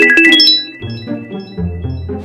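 A phone rings indoors with a bright, melodic chiming ringtone, several quick tinkling notes sounding loud and close with no voices.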